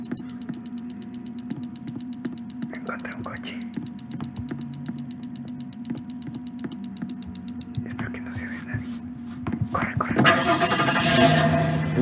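A car engine in a video game cranks repeatedly without catching, a low churning whir under keyboard clicks and a voice, ending in a louder surge as it strains near the end.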